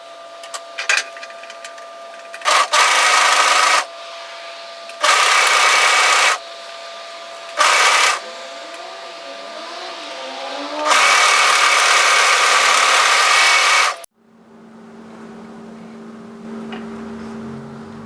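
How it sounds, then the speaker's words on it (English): A sewing machine stitches a seam on a longline roll-neck sweater in several separate runs, loud steady whirring bursts with pauses between, the longest near the end, followed by a quieter hum. "now we're going to sew a seam from one side to the other, making sure that center notch matches"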